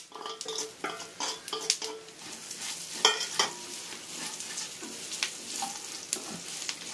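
Okra pieces being stir-fried in a pan, with a steady sizzle, a spoon scraping and stirring, and occasional clinks of metal on the cookware, all at a fairly quiet level.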